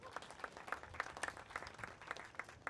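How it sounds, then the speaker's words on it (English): Sparse, fairly faint clapping from a small outdoor political soapbox audience, individual claps audible in a loose rhythm at some distance. "You can clap for that."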